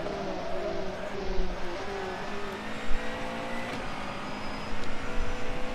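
Racing cars in Second Life run during qualifying, several engines droning and whining at shifting pitches as they pass, with brief louder bursts of revving over a continuous motor hum.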